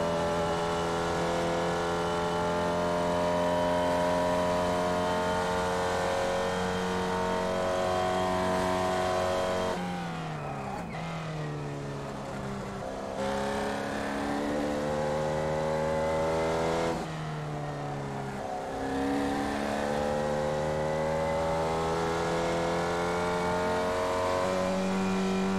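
Formula Vee race car engine in iRacing at Summit Point, a steady loud drone that drops in pitch twice as gears change abruptly, then climbs again; no talk.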